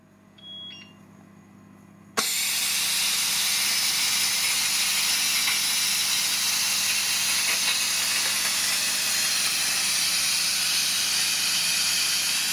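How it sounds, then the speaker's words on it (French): A Moulinex Cookeo electric pressure cooker, cooking moules marinières under pressure, gives a short beep, then bursts into a loud, continuous hiss of venting steam that holds steady to the end. "Donc là, le programme va se terminer et vous allez voir, la vapeur va sortir."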